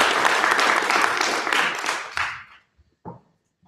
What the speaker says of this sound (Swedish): vi med en stor, varm, härlig, rungande applåd hälsar Ylva Pettersson välkommen